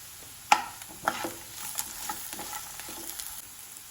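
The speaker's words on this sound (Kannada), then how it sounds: "ಈರುಳ್ಳಿ ಚೆನ್ನಾಗಿ ಫ್ರೈ ಆಗಿದೆ." Onions frying in a pan with a little sugar while being stirred, a soft continuous sizzle broken by several clinks and scrapes of the spoon against the pan at an irregular pace.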